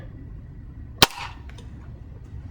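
A single sharp crack from a Benjamin Trail NP air pistol firing a pellet, close and sudden, with a brief ringing tail and a faint follow-up click, against a quiet background with no talking.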